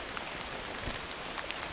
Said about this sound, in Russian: Капает дождик. Капает дождик.